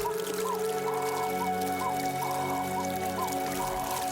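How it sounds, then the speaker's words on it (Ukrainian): A mountain stream's continuous flowing water burbles and trickles steadily, with soft gurgling notes over a constant rushing bed. "Прислухайтеся до м'якого дзюрчання цього потоку."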